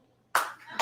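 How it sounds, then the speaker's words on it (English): A lone person claps in front of a crowd after a high-school punchline, producing a sharp burst of handclaps that starts abruptly after a short quiet stretch and ends with one more clap. "There's one person clapping."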